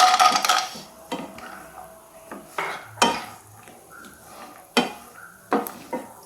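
Cashew nuts going into a pan for bread halwa, with scattered knocks and scrapes of a spoon against the pan over a faint sizzle, each clatter sharp and close, separated by quieter gaps.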